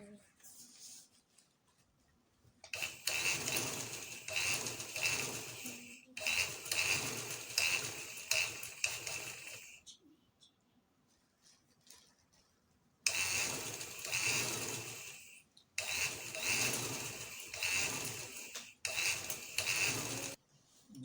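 A sewing machine stitches a cloth flag with a star in several loud bursts of rapid mechanical whirring, separated by quiet pauses.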